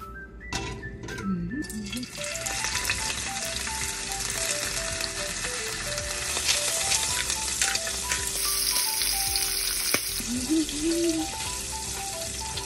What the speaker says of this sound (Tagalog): iprito muna natin itong ating mga hipon